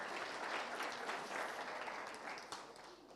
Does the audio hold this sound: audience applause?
yes